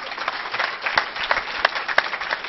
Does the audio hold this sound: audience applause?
yes